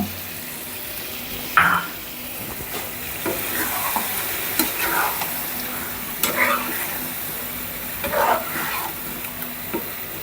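Chicken meat is stir-fried (kashano) with spices in a pan after a little water is added. A steady near sizzle runs throughout, broken by a sharp scrape and then a few spaced bursts of stirring, with no talking.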